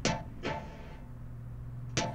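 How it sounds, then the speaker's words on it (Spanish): A house-style stab synth preset in Ableton over a sustained pedal note, with three short bright chord hits spaced unevenly across a steady low drone, clean and alone with no voices. "lo que hice fue agregar una nota pedal también con un stab medio houseero"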